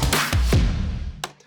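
A quick drum fill sample from a Splice pack of several punchy hits and cymbal crashes, with deep booming toms, up close and loud, then fading out.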